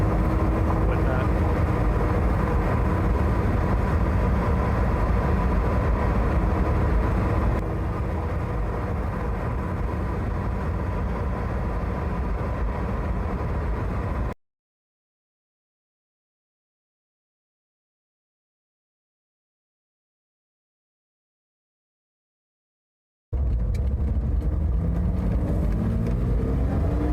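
Steady tire and road roar fills the cabin of a moving car, broken by a long stretch of complete silence before the rumble resumes.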